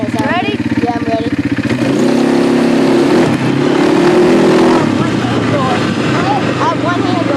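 A four-wheeler engine idles and revs loudly close by, its steady rumble rising into a sustained higher drone, while people talk over it.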